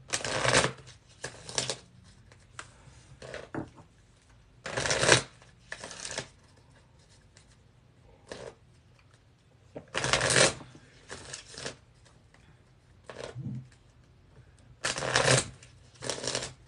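Repeated bursts of playing cards being riffled and shuffled, brisk rustling flurries separated by short pauses, close and clear.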